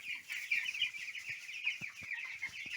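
Cobb 500 broiler chickens clucking softly in a shed: overlapping close, quiet clucks and chirps in an irregular stream, with faint scratching underneath.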